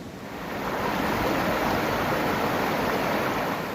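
A river flows in a steady, full rush of water close by, a dense continuous wash with a slight windy edge and no voices.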